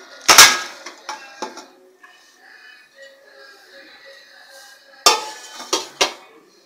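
Pressure cooker being opened after cooking: sharp metallic clanks of lid and pots in a cluster at the start and again near the end, with quieter handling knocks between, close by.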